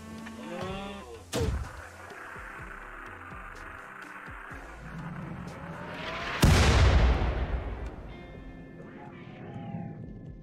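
Mortar fire in the RimWorld colony game: a sharp thump near 1.4 seconds, then a loud, heavy blast with a long rumbling tail near 6.5 seconds, over steady game ambience with speech-like tones.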